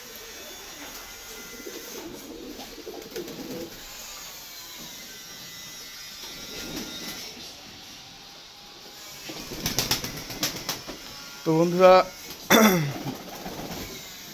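Pet pigeons let out of their cage coo quietly near a water bath, then flap their wings in several loud bursts toward the end, while someone talks over them.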